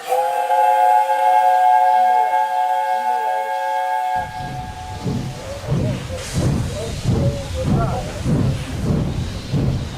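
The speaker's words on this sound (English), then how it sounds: "then there was a sudden shrill whistle." A steam engine's shrill whistle sounds at a railway station, a loud sustained tone lasting about four seconds before it gives way to a rough, rumbling mix of steam and engine noise.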